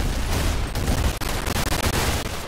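Gunfire in the Roblox-style shooter game Arsenal, a dense, continuous rattle of rapid shots packed close together with brief gaps, loud and filling the whole stretch.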